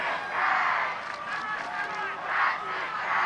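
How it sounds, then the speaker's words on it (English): A high school football crowd at a Jackson Memorial versus Brick Memorial game swells into loud cheering and roaring, rising and falling in waves across the stands. "the Mustangs crowd has gotten pretty loud"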